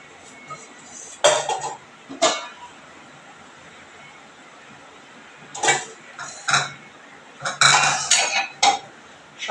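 Metal kadai and cooking pots are handled and knocked together in a home kitchen, giving sharp clanks and rattles in short bursts with quiet gaps between them.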